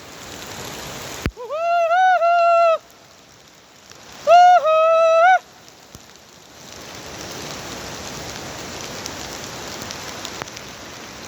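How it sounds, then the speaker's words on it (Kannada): Heavy rain pours near a nearly full dam where the river is brimming. Two loud tonal horn-like blasts come first, then a steady, broadband rush of rain fills the second half. "ಮಳೆ ಜೋರಾಗಿ ಬರ್ತಿದೆ."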